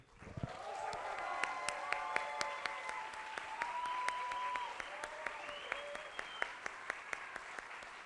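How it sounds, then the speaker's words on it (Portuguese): A theatre audience applauds Camila Sosa Villada at a literary talk, a steady wash of many clapping hands from a moderately distant crowd, with a few sharper nearby claps and a faint voice-like tone partway through. "muitas palmas para Camila"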